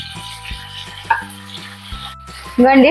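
Tomatoes drop into a hot pan for a Telugu coriander-tomato chutney. A sudden loud sizzle erupts near the end after quieter clinks and hum.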